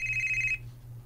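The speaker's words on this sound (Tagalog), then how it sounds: "Imo cellphone pa?" A cellphone ringtone sounds briefly, a steady tonal ring that cuts off after half a second over a low background hum.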